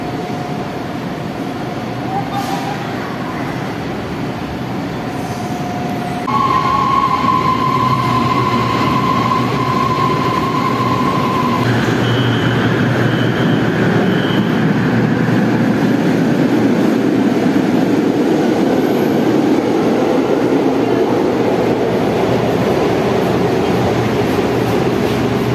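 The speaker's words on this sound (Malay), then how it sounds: "Ini adalah dia punya dalam train LRT dia." Inside an LRT train on the Sri Petaling Line in Kuala Lumpur, a steady rumble of wheels on rail with rising motor whine and tonal squeals as the car picks up speed, faint voices underneath.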